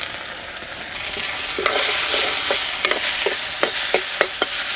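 Chopped onions fry in hot oil with cumin, a bright steady sizzle that swells as they are stirred, with repeated scraping spatula strokes against the pan.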